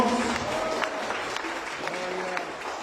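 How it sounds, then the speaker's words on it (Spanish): A church congregation claps together in a steady, dense wash of applause, with faint voices mixed underneath. "nuevamente denle ese aplauso fuerte a Jesús"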